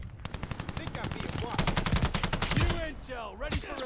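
Rapid machine-gun bursts from a ball turret in the video game Call of Duty Vanguard, a fast rattling string of shots with short pauses, close and steady, with game effects mixed in.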